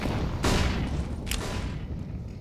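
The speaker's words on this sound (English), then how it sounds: "Spamming the grenades into that mid position." Grenades exploding in the Counter-Strike: GO video game during an IEM Dallas esports match: two loud, sharp blasts about a second apart, set in a dense wash of game noise.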